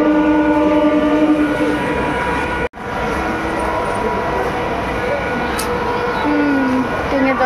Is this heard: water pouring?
no